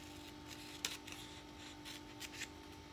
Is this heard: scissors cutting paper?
yes